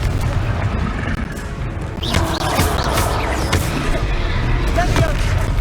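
Confringo fire spell exploding in the Hogwarts Legacy video game: a string of loud, booming blasts with sharp cracks, close and heavy over a constant rumbling game background, with a voice speaking over it.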